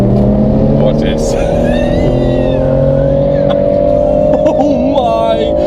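A BMW M140 and a Mercedes E63S with nearly 700 horsepower accelerate hard on a road trip through the Alps, their engines droning loudly and rising steadily in pitch, with voices over the roar.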